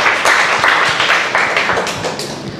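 A small audience claps hands together, a steady dense patter of many overlapping claps that carries close and loud for a couple of seconds without any talking.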